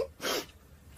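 A single close sneeze from someone with hay fever, a sharp burst of breathy noise lasting under half a second, followed by a quiet pause and the start of another sound at the end.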